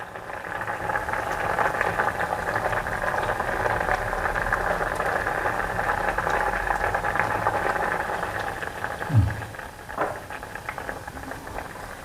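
A pot of sambar with tamarind pulp and vegetables, including drumstick pods, simmers with a steady bubbling hiss that continues throughout. A couple of faint knocks are heard near the end.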